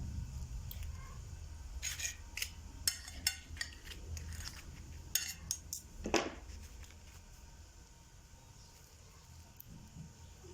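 A knife cuts through a lavash and egg breakfast dish, giving scattered faint clicks and scrapes against a plate in the first several seconds before the sound settles into quiet.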